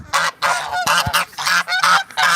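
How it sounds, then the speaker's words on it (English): Geese being fed corn honk loudly and close, a rapid run of about eight nasal honks with short gaps between them. "That's the sound of a very happy goose."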